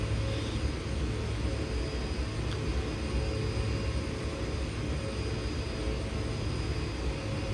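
Steady broadband roar of an airplane engine in the X-Plane 10 flight simulator, flying over Inverness and Loch Ness, continuous and even with no breaks.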